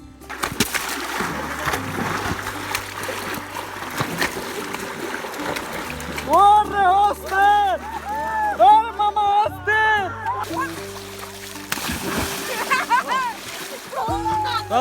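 People bathing and swimming in a village pond splash the water in bursts, mixed with loud shouting and chatter from the group close by.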